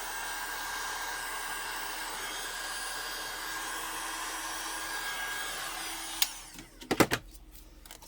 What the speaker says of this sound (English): I'm going to take my heat gun and pop any surface bubbles on it.